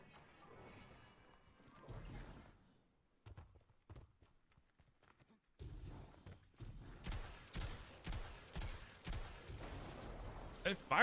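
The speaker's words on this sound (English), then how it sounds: "Alright, I just want to go shoot this hand cannon." A hand cannon in Destiny fires in a run of sharp, punchy reports, spaced roughly half a second apart and growing louder toward the end, with quieter game noise between the shots.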